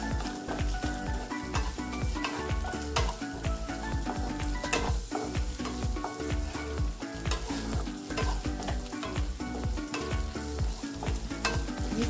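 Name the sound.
ginger garlic paste frying and stirred with onions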